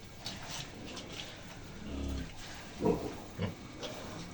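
Pigs and piglets on a farm grunt and oink in short, uneven bursts, some deep and close, with quieter grunts scattered between them and no talk.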